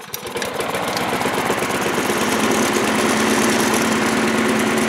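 A lawn mower engine runs close and loud at a steady, fast idle, with an even rhythmic chug under a bright mechanical rattle.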